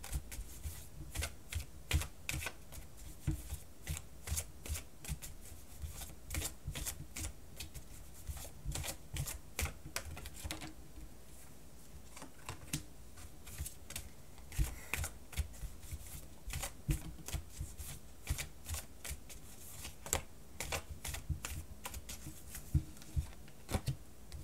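Tarot cards shuffled by hand, a long run of quick, crisp riffling clicks and flicks close to the listener, steady with brief pauses, without any voices.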